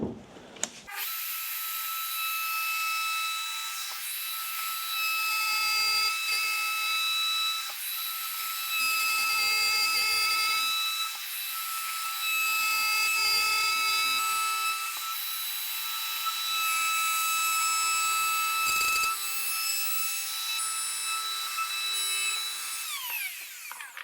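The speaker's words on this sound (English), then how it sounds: "I'm going to get this cut out with the router now." A power router cuts a letterbox opening through a wooden door, whining at a steady high pitch for a long continuous stretch while bursts of rougher cutting noise rise and fall as the bit moves through the wood.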